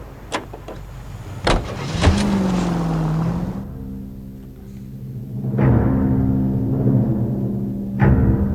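A car in the video game L.A. Noire drives with an engine that rises and falls in pitch through gear changes. Sharp knocks and thumps cut in at intervals, and there is no talk.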